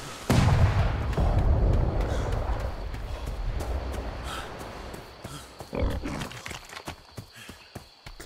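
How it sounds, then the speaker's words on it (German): A video game cannon fires at the player with a heavy booming blast, followed by a long rumbling decay and scattered impacts and thuds. "Ballern die mit der Kanone auf mich."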